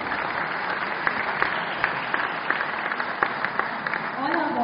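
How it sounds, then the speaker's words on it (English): An audience at a choral ensemble concert in Old Goa gives sponsors a steady, sustained round of applause, dense even clapping filling the room at a moderate level. "So big round of applause to all our sponsors."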